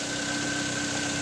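A 2015 Mitsubishi Lancer engine, suspected of worn valve seals and smoking from the tailpipe, runs at a steady idle with an even, close-up mechanical hum and a faint tick.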